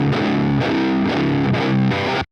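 Electric guitar played through a Fortin NATAS pedal into an Orange Tiny Terror amp, with the girth knob raised, giving a thick, heavily distorted chugging riff of a few strummed chords, loud and continuous, cutting off abruptly at the end.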